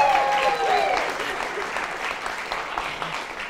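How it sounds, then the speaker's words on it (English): Audience applause fills a presentation hall, steady broadband clapping that stays fairly loud and gradually fades, with a voice briefly audible over it near the start. "So give her a little applause"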